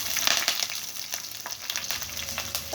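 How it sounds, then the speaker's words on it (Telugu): Green chillies hit hot frying oil and sizzle loudly, with crackling spatters and bursts of popping over a steady hiss. Stirring clicks come through, and there are no voices. "పచ్చిమిర్చి వేసినప్పుడు కొద్దిగా జాగ్రత్తగా ఉండండి, ఎందుకంటే అది చెప్పుతుంది కదా."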